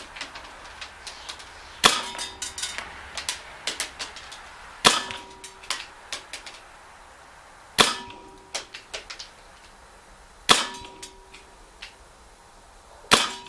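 Sharp CO2 BB pistol shots from an Umarex XBG and TDP 45 crack one at a time at irregular intervals, each with a bright metallic snap and short ring, surrounded by small ticks and rattles.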